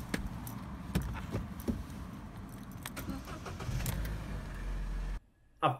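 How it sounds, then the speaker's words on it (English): Keys jingle and click, then a Vauxhall Corsa engine with a coil pack misfire cranks and catches with a low, steady rumble before cutting off abruptly. "We'll give that lever a tug and start it up."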